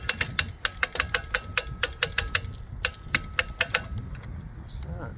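A fishing reel clicks rapidly in quick bursts as line tightens on the spool aboard a 1988 Shoalwater flats boat on the Lower Laguna Madre, the ticking close and crisp, then trailing off.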